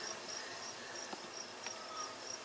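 Honeybees shaken from a frame into an open hive, a continuous faint buzzing hum with a few soft knocks, no voices.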